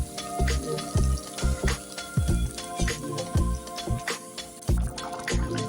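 Leftover boiling water from cooked white chickpeas being poured into a potato curry, giving repeated liquid splashes and drips close by, with clattering kitchen noises between pours.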